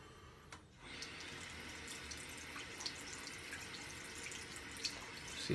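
A bathroom tap runs steadily while shaving lather is rinsed off a razor during a wet shave: a continuous, fairly close hiss of flowing water with a few small splashes and no talking.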